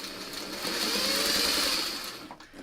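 Sewing machine stitching quilting fabric with a sharp needle and a shortened stitch length, one steady close whirring run of about two seconds that eases off at the end.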